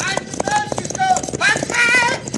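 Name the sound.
horse hooves galloping during a cattle stampede, radio drama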